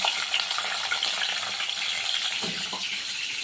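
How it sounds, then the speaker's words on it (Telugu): Onions and whole spices frying in a pan for biryani, a loud continuous sizzle with stirring scrapes, close and steady throughout. "మసాలా దినుసులు వేసుకుని ఆనియన్స్ కూడా వేసుకుంటున్నాను"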